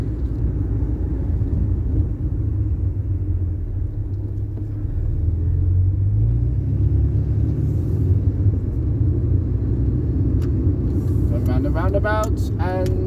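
Ford Fiesta Mark III on the road, a steady low engine and road rumble throughout, with someone talking over it toward the end.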